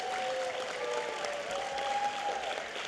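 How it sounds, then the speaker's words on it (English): Audience applause at a county board of supervisors meeting, steady moderate clapping across a hall that carries on throughout, with faint voices underneath. "Give her a round of applause."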